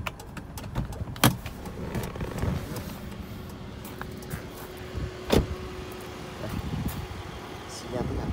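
Power-folding side mirrors on a 2015 Kia Morning whir briefly beside the car, with a couple of sharp clicks and some background chatter from people nearby.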